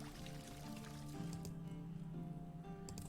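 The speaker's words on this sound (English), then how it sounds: "the sound of pouring water" Water poured into a vessel as part of a mellow fantasy tavern ambience, a steady liquid fill running continuously over a low background murmur of the room.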